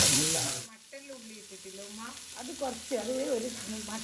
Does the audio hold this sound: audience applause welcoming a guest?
no